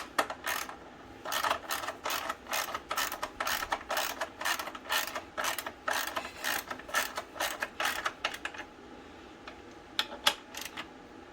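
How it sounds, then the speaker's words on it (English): Torque wrench ratcheting while tightening bolts on a Can-Am Ryker rear wheel during a brake pad and tire change: a long run of quick, evenly spaced clicks in bursts, fairly close, then a few isolated clicks near the end. "get the our torque wrench, and we'll take them down to the 37 foot-pounds"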